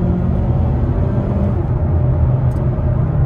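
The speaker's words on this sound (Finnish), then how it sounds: "Nyt mä painan sitten kaasua vähän reippaammin." Two-litre four-cylinder engine of a 2015 Mazda 6 accelerating in Sport Mode, a steady, loud low rumble heard from inside the car, continuous throughout with no talking.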